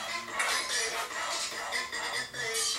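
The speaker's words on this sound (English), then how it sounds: "Now I'm gonna go ahead and cut up my white onion." Knife chopping a white onion on a cutting board, a steady run of close, crisp taps with faint clinks from utensils and dishes nearby, no talking.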